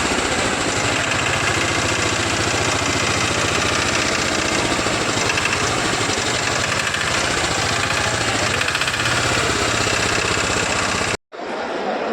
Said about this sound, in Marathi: ऑटोमॅटिक ट्रॅक्टर आहे